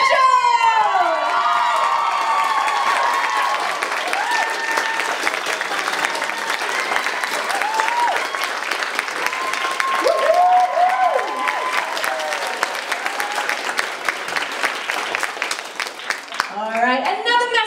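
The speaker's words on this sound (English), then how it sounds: "another massive round of applause for all of the women on stage tonight" A live crowd at a pole dance competition results ceremony applauds and cheers loudly and continuously, with whoops and shouts rising over the steady clapping throughout.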